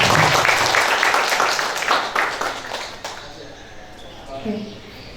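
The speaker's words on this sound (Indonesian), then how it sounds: "Kita beri tepuk tangan dulu kepada anak-anak kita." An audience at a madrasah program applauds children from a traditional music club, dense clapping loud at first then thinning and fading after a few seconds, with voices and murmurs underneath as it dies down.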